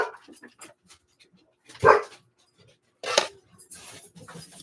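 Indoor dogs bark at a moderate distance, two sharp barks about a second apart, with quieter rustling and movement sounds around them.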